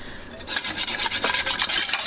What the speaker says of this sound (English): Mix it up. Try not to spill it.